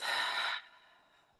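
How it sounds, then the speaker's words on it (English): A slow, deep breath: a soft breathy rush that fades into a quieter, trailing exhale, faint and close, with no talking. "Take a slow, deep breath in through the nose and exhale through the mouth."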